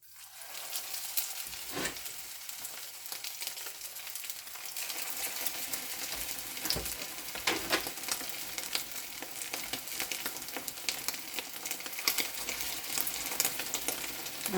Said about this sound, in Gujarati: આ રીતે આપણે ફ્રાય થવા જ દઈએ 5 મિનિટ રહીને